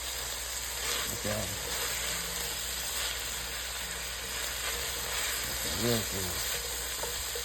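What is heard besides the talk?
vegetables frying in butter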